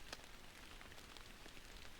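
Soft, steady patter of rain falling on trees, faint and continuous with scattered drops ticking nearby.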